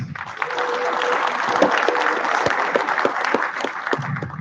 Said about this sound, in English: One more round of applause.